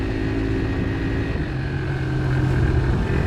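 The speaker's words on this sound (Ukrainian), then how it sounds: "Оце 4-5 тисяч такий резонанс від вихлопної йде" Geon Scrambler 300 motorcycle exhaust at 4,000 to 5,000 rpm, a loud, steady droning hum with a resonant tone, heard close from the rider's position with road and wind noise mixed in.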